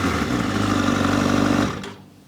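Yamaha R7 motorcycle fitted with an R1 engine, revving with a sensitive throttle: a loud, steady engine roar that holds for about a second and a half, then cuts off and falls away to a low idle.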